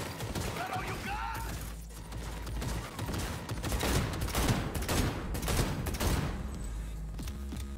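A pistol fires on full auto in Cyberpunk 2077, rapid sharp shots in dense bursts that run for several seconds, loud and close with brief gaps between strings.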